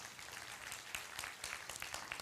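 Audience applause at a live architecture exposition event, a sustained wash of many hands clapping at moderate distance, steady and even throughout.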